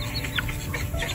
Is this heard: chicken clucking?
yes